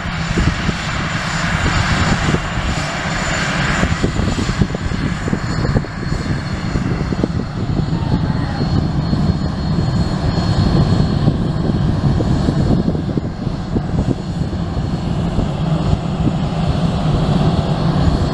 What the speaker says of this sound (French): Le décollage.